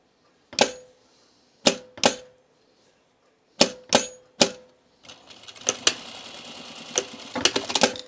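A domestic sewing machine re-sews a blouse seam in short separate bursts of stitching, then runs a longer, busier stretch of rapid stitches with mechanical clatter, close and clear with no talking.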